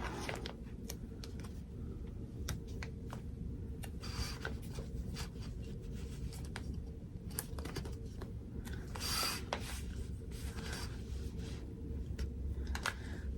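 Craft material for an in-the-hoop ID keeper zipper bag being smoothed down and taped, giving soft rubbing and brushing with scattered sharp ticks and tape crackles, close and steady throughout with no talking.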